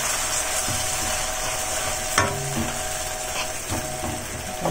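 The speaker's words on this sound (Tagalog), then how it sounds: "Sama na natin sa gisa." Tomato being sautéed with corned beef in a pan gives a steady sizzle with occasional scraping stirs, loud and close, with no talk.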